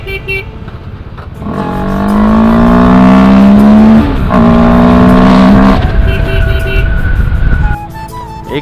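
A motorbike engine fitted with a modified air filter revs up twice in long rising pulls and then settles back to idle, loud and close with no talk.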